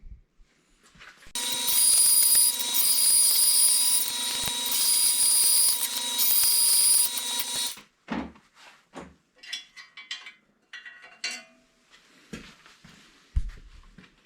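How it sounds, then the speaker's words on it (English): A bandsaw trims a metal gear blank, cutting loud and steady for about six seconds before stopping, followed by scattered clanks, taps and handling noises of the metal workpiece. "I'll be using the bandsaw to trim."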